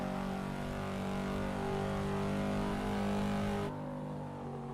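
Car engine in a driving video game holding a loud, steady revving drone with a strong harmonic tone, then easing off and quieting abruptly near the end.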